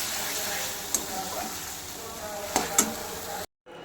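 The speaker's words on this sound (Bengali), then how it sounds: "তো যাই হোক চলো কষিয়ে নিই।" A paste of yogurt, onion, garlic and spices is stir-fried in a little oil, a low steady sizzle broken by a few sharp spatula scrapes before cutting off abruptly.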